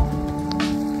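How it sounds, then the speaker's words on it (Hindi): Sudden heavy rain pouring down in Bali, a steady wash of dense drops pattering on surfaces close by, continuous and fairly loud with no one talking. "ऐसे अचानक से बारिश होती है ना यहाँ पे"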